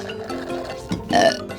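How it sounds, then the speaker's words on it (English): A cartoon character lets out a burp, a low rumbling belch that swells near the end of a short stretch of soft background sound. "Let's do something to stop your burps."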